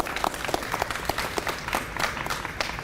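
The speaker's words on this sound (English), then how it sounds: "Let's give her another round of applause if we could." An audience at a city gym opening press conference claps together, a dense, steady patter of hands at close range for the whole stretch.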